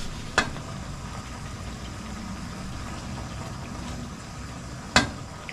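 Tapa, cured beef, frying in a pan, a steady low sizzle under a constant background rumble, cut by two sharp clanks of a utensil against the pan near the start and near the end.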